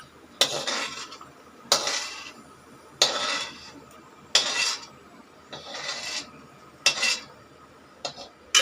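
Poha and chopped almonds roasting in a pan, with repeated scraping and stirring strokes of a spatula against the metal at an irregular pace, close and fairly loud, no talking.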